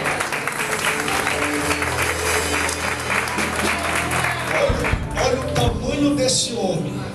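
A church congregation applauds during a Portuguese-language sermon, steady dense clapping filling the space with a voice speaking over it and louder shouts near the end.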